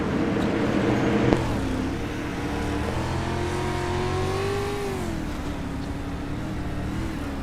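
Modified race cars running a green-flag B-main on a racetrack, engines droning and rising and falling in pitch as the field laps steadily.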